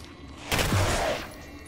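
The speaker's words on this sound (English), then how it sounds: "I'm gonna shoot it." A single burst of gunfire in the first-person shooter Singularity, a loud, dense blast lasting under a second with a short tail, heard alone.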